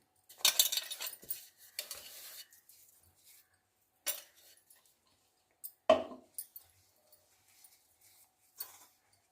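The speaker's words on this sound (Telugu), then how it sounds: "ఇలా మొత్తం కలిపేసుకోనండి పిండి బెల్లం కలిసేలా" Urad dal flour and powdered jaggery being mixed together in a bowl, heard as a few sparse scrapes and light clinks of a utensil against the dish, with quiet gaps in between.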